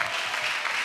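Church congregation applauding at a missionaries' retreat, a brief dense burst of clapping heard close and steady with no pauses.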